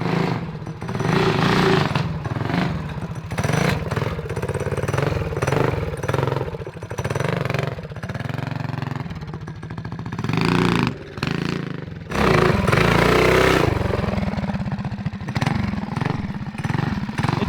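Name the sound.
mini bike engine riding hot laps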